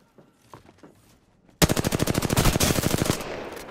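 Rapid automatic gunfire bursts out loud and close in the video game Apex Legends after a few quiet shuffling sounds, a fast rattling string of shots lasting about two seconds.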